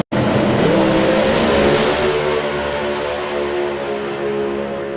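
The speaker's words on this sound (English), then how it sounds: "car doesn't sound like it shifted at all" A doorslammer drag racing car launches hard and accelerates down the strip, its loud engine roaring steadily for several seconds without an obvious shift, close and dominant with no voices.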